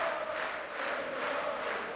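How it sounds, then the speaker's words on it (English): Darts crowd at the German Darts Open on their feet, a dense, steady roar of cheering and chanting that fills the whole moment without a break. "And the crowd are on their feet already."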